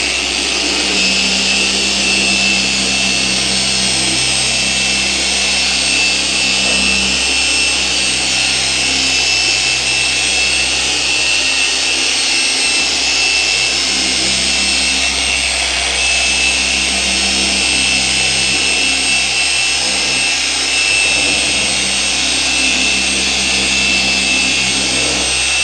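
An In2Detailing DA15 V2 dual action polisher with a 15 mm throw runs at high speed, giving a loud, steady, close mechanical whir and hiss that holds unchanged throughout without any pauses.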